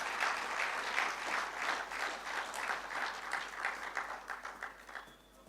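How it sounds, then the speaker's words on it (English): Sustained applause from an audience at a university artificial intelligence boot camp commissioning ceremony, a dense wash of many hands clapping at steady loudness that thins and fades out at the end. "give him a moment of applause for these wonderful ideas"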